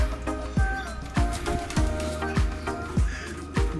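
Racing pigeons at a loft during truck training coo in a recurring pattern, soft throaty calls repeating roughly every half second to second, close and moderately loud over a faint background.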